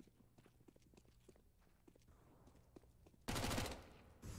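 Gunfire in a first-person shooter: a series of sharp, quiet clicks and taps, then a loud burst of shots near the end, followed by one more sharp report.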